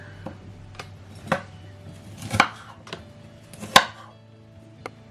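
A few irregular knife chops on a cutting board, sharp isolated knocks spaced about a second apart, fairly close, with a low steady kitchen hum beneath and no talking.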